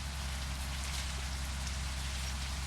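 Steady, even rain falling in the Bus Simulator Indonesia video game, a dense unbroken hiss of drops on surfaces with no voices over it.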